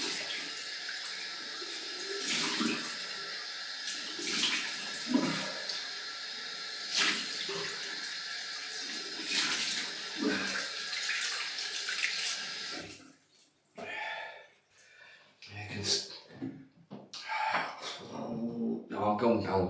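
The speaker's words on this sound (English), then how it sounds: "Cold water in." Cold water runs from a tap into a sink during a shave, a steady rushing flow for about thirteen seconds that then stops, followed by scattered splashes and handling noises.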